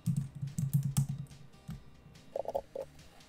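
Fingers type on a computer keyboard in quick, close bursts of soft clicks, followed by a few sharper isolated keystrokes, with no talking.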